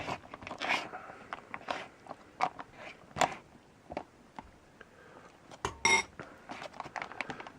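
Spoon stirring Mountain House beef stroganoff inside its foil pouch: crinkly scrapes and rustles in irregular bursts, close and fairly quiet.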